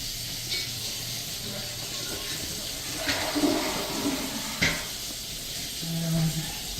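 Water runs from a tap in a house during a pre-leasing rental inspection, a steady close rushing hiss that carries on throughout, with a couple of brief knocks and faint voices in the background.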